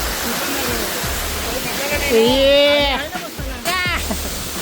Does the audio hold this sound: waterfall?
yes